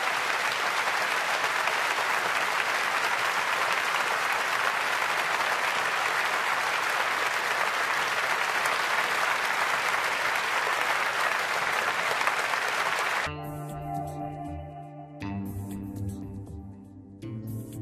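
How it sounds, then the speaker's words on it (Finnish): Studio audience at a Finnish comedy contest final applauds the comedians with loud, steady, dense clapping for about thirteen seconds, which then cuts off abruptly into music. "Antakaa vielä isot aplodit Ismolle ja kaikille meidän koomikoille"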